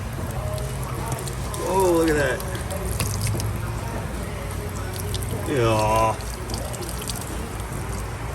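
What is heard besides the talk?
water leaking and dripping out of a car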